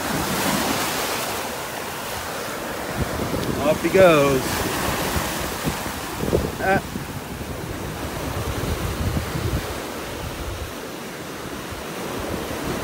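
Waves wash up onto the shore on a beach in North Naples, Florida, a steady, loud rush of surf with wind noise on the microphone, while someone briefly speaks partway through.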